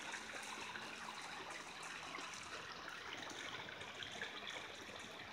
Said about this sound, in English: Beautiful little creek coming down.